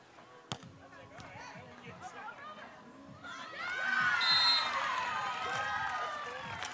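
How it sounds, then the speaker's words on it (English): Tulane cheering section at a beach volleyball match, a crowd that is faint at first and then swells into sustained cheering and shouting with a few sharp thuds, heard from a moderate distance. "I know Tulane's got a nice cheering section."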